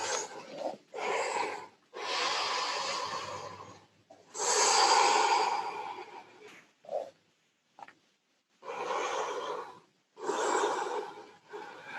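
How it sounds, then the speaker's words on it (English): Slow, deep breathing during a yoga pose, with long inhales and exhales in a repeating rhythm separated by brief pauses, close and clear with no talk. "Maybe 3 or 4 more long, slow breaths here."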